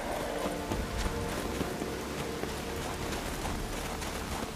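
Horse hooves clip-clop in The Witcher 3: Wild Hunt, a steady, moderately quiet run of hoofbeats over a soft background hiss.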